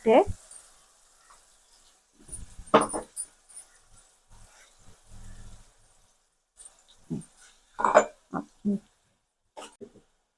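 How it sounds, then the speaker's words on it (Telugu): Onion paste with salt and chili fried in a pan, heard as sparse sizzling and intermittent stirring bursts separated by quiet gaps. "ఈ ఉల్లిపాయ పేస్ట్ అయితే వేసేసుకోవాలి దీంట్లోనే కొంచెం ఉప్పు కారం వేసేసి వేగిన తర్వాత ఇవి కూడా వేసేసి బాగా వేపుకుంటుండండి"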